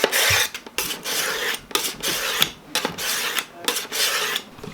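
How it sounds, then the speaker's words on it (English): Kitchen knife stroked repeatedly across sharpening stones of rising grit, a loud, close, rhythmic rasping in steady back-and-forth passes with short gaps between strokes. "Work up through the grits, and when you're done, you're left with a horrendously sharp knife."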